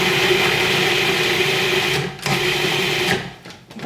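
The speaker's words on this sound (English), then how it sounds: "I'm going to add the cup of garlic to the food processor" A food processor chopping a cup of garlic finely: a steady, loud motor whir runs for about two seconds, cuts briefly, starts again for a second pulse, and then winds down, with no talk.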